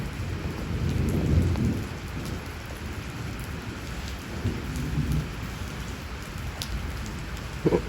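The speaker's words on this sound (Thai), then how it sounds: "เล่นน้ำฝน" Heavy rain pours down steadily, a dense continuous hiss with low rumbling swells, no voices.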